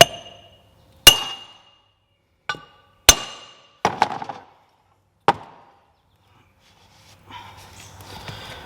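A seal driver hammers wheel bearing seals into the hubs of a PJ 10K landscape trailer, giving about six sharp, loud metallic strikes spaced irregularly, some ringing briefly, followed by a softer scraping shuffle.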